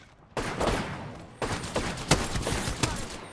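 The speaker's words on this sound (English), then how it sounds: "I'm fucking taking fire." Sustained gunfire from an Apex Legends match: dense, rapid bursts of shots start after a brief pause and continue loud and close, with several sharper cracks standing out.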